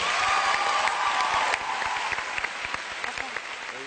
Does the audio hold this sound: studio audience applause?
yes